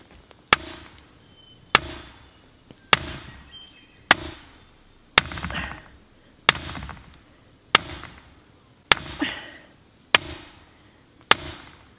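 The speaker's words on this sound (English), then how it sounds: "I'm just gonna use the sledge." A sledgehammer drives a pipe into the ground with about ten sharp, ringing metallic blows spaced roughly a second apart, each strike loud and close with a short decay, and nothing else in between.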